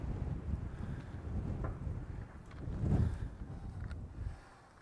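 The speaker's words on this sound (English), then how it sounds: "Oh, it is really windy. Wind coming through this little" Gusty wind rushes through a small canyon, buffeting steadily and swelling into a stronger blast midway before easing off; no voices.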